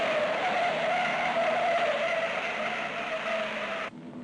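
Holden Monaro race cars at the 1968 Hardie Ferodo 500 at Bathurst, a loud sustained engine drone with squealing tyres holding steady for several seconds before cutting off abruptly, from an old film recording.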